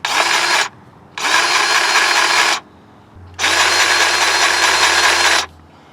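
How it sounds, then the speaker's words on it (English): A grease gun pumps grease into the ball joint of a Rough Country upper control arm on a Nissan Titan, making three loud, close, motor-like whirring bursts separated by short pauses. "the instructions say to grease the ball joint for use, so we'll give it a couple squirts"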